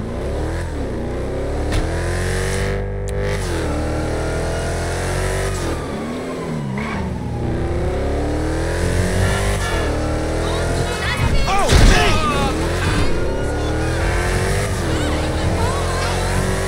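A car engine in GTA 5 revs and accelerates steadily with rising and falling pitch sweeps, with a sharp burst near the end, while people talk over it.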